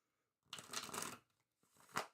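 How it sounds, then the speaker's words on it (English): Osho Zen tarot deck being shuffled by hand, a dense riffling burst of card flutter lasting under a second, a brief pause, then a shorter second riffle, close and fairly soft. "I'm just shuffling my deck"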